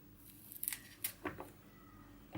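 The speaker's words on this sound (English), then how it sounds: "Now you will need to cut this little tail." Scissors snipping the tails off spicy green chili peppers for a Korean pickle, several sharp quiet clicks and snips in an irregular rhythm, close and fairly faint, with no talking.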